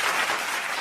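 Brief, dense burst of hand clapping from a group, steady and fairly loud throughout with no pauses and no talking over it.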